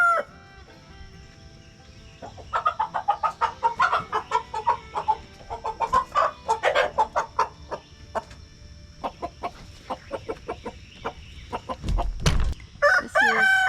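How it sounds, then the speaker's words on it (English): Many chickens cluck and squawk in rapid bursts close by, with a rooster crowing loudly near the end. "there's too many darn chickens in here"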